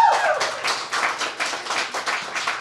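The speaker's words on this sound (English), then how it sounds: "Let's give Mr. Pelham and Urban Strategies a round of applause." Round of applause from an audience at a community toy drive event, a fairly close, steady patter of many hands clapping in uneven pulses with no talking over it.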